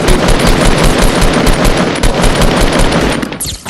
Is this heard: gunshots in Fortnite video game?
yes